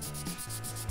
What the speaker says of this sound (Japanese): 紙やすりでこう均一にこう面を出していくと